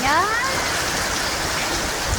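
Steady, loud rainfall pours down, a dense hiss of water with a few brief high tones near the start.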